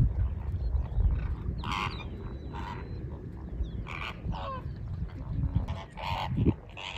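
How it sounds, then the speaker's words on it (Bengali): A flock of flamingos honking and calling in scattered bursts over a low rumbling background, moderately distant. "এই যে এক ঝাঁক ফ্লেমিঙ্গো,"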